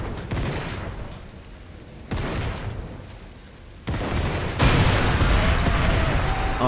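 A burning vehicle blows up in Sniper Elite 5: a series of heavy booming blasts arrive in steps, each louder than the last, over a roaring, crackling fire.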